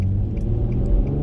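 A car engine pulling under acceleration while driving, a loud, close low rumble and drone heard from inside, steady with slight swells and a few faint chirps above it.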